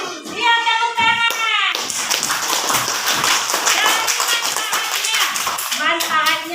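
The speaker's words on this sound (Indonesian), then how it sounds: "tepuk tangan" Classroom clapping by children, a run of quick rhythmic claps and taps mixed with kids' voices, set between stretches of a teacher talking at the start and end.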